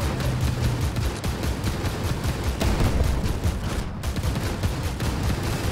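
Tank cannon and gunfire in the video game Armored Warfare make a dense, loud barrage of rapid booming shots and bursts that runs continuously for several seconds, with no talking.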